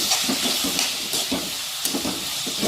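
Tomatoes sauté in a hot pan, giving a bright steady sizzle and hiss broken by quick repeated stirring scrapes, all close and fairly loud.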